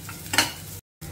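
Chutney ingredients with turmeric powder added fry and get stirred in a pan for a village-style dish, a soft sizzle with a louder scrape of stirring near the middle, then a brief cut to silence before the sizzle resumes.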